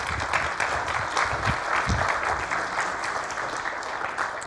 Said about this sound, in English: give some applause.